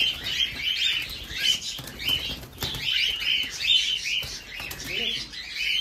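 Cockatiel chicks flutter and flap their wings while being picked up by hand, a busy rustling flurry mixed with sharp chirps and squawks, close and fairly loud throughout.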